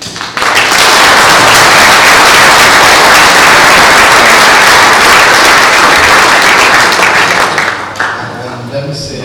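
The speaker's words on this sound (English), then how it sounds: "thank you for the applause" Loud, sustained applause from a large crowd fills the space for several seconds, then thins out near the end.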